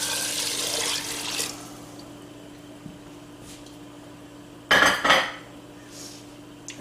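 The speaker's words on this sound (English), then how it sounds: "so in goes the stock" Beef stock poured into a soup pot of browned beef, a loud splashing pour near the start, then quieter clinks and a second brief burst of liquid and metal clatter near the end.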